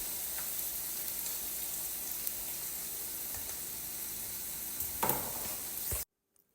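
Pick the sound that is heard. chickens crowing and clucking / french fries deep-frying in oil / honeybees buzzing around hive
french fries deep-frying in oil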